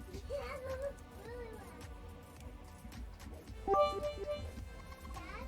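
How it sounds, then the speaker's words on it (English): A cat meows a few times in short, tonal calls scattered through a busy mix of other sounds, with one louder, clearer call partway through. "I heard a cat."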